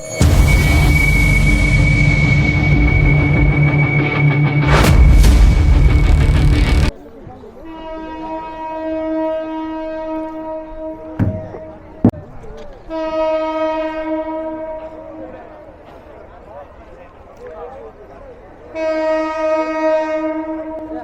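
The Titas Commuter train rumbles loudly onto the new Bhairab rail bridge, heard from the roof, its heavy roar dropping away as the horn sounds in several long, tonal blasts, with clanks and clatter between them.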